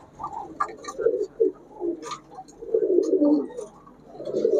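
Indian Kaldom pigeons coo close by in a string of separate, throaty phrases, some short and some drawn out, with brief pauses between them.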